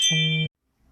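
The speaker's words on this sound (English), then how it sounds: "That's my doorbell going off." A home doorbell sounds one short, clear electronic chime tone that cuts off abruptly, followed by near silence.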